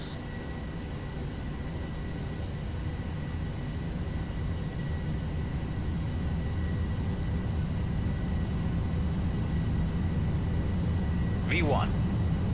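A Boeing 737-800 at takeoff power during the takeoff roll in a flight simulator gives a steady, loud jet roar that slowly builds, with a faint electronic chirp near the end.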